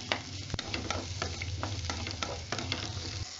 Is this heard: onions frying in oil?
yes